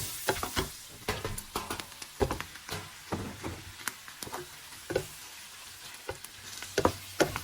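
Garlic and onion fry in butter, a soft bubbling sizzle broken by frequent quick clicks and scrapes of a utensil stirring the pan, close and fairly quiet with no voices.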